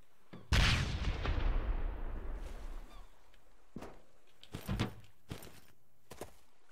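A grenade explodes in Sunkenland with a loud, sudden boom that rolls off into a long decaying rumble, followed by a few scattered sharper impacts and bursts.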